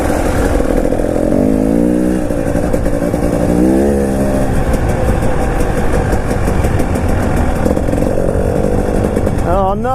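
A 2019 KTM 300 EXC TPI dirt bike engine putters and revs in short rising bursts while riding, loud and close, with a brief rising whine near the end.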